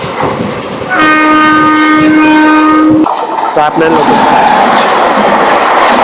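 A loud train horn blares for a couple of seconds, then the 17210 Kakinada Town to SMVT Bengaluru passenger train roars past with rumbling, rattling wheels very close.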